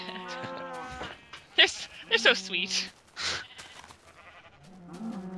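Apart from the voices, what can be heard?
cows in a video game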